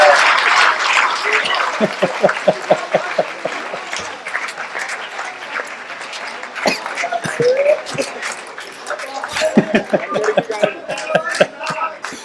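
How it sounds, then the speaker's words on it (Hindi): A poetry recital audience breaks into strong applause, at first dense, then settling into rhythmic clapping in time, with cheers and scattered voices rising over it throughout. "अब तक की सर्वाधिक समर्थन की तालियां चाहूंगा।"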